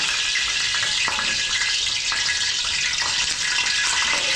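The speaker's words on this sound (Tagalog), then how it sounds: "Kumain na yung ating mantika, puputok-putok na dahil sa tubig." Cooking oil popping and sizzling in a restaurant kitchen pan as water hits it, a steady dense crackle with sharper pops every second or so, close and loud with no talk.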